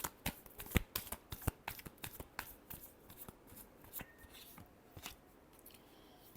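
Tarot cards are shuffled by hand close up: a quick run of crisp riffling flicks and slaps, fairly quiet, with a softer stretch of shuffling toward the end and no talking.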